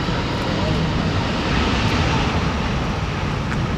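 An Airbus A380 passes at Sydney Airport, a steady, loud roar of jet engines sustained throughout with broadband wind-like rush and no breaks.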